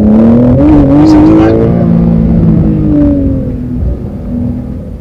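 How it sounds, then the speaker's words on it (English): A 2020 Porsche 911 turbocharged flat-six engine revs hard, loud and close, its rising and falling drone filling the cabin before easing off, with someone talking over it. "Definitely a flat six. Definitely an engine raring to go, revs to the skies."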